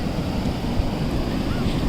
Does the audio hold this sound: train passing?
no